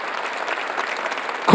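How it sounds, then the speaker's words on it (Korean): Applause fills a church during a Sunday worship service, a steady even patter of many hands clapping throughout, with a louder burst right at the end. "박수 한번 쳐봐요."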